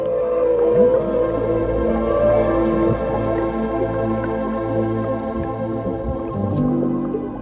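Humpback whale calls from Alaskan waters: long, rising and falling tonal moans and repeated low pulses over a steady underwater hum, carrying on without a break.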